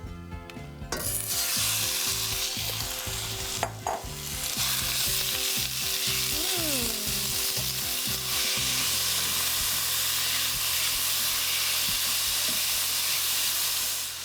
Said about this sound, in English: I've got a teaspoon of sesame oil heated up in the pan. Our beef has been marinated. Let's toss this in.